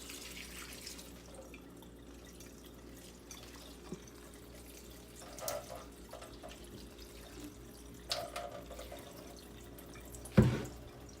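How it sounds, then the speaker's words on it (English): Water draining and dripping from a freshly watered hanging houseplant indoors in an apartment, faint trickling with a few soft drips and one louder splash near the end, otherwise quiet. "I just water it and then let it drain."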